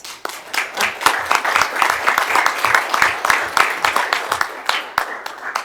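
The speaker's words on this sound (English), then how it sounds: "that deserves a round of applause" Applause at a Burke County, North Carolina public meeting, honoring an emergency team for fast road transport of a patient; a steady patter of hand claps with sharp individual slaps, continuous for the whole stretch and moderately close.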